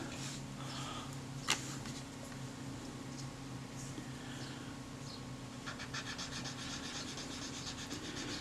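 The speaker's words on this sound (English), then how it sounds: "as I polish it I can feel it become smoother" Rubbing and polishing on a small metal part of a Kodak Retinette type 022 camera, a steady soft scratchy friction that runs continuously and close up, with one sharp tap partway through.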